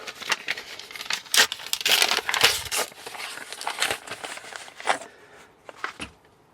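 A package holding a homesteader's sticker is torn open by hand, with close, loud bursts of crinkling and ripping paper or plastic in irregular rhythm.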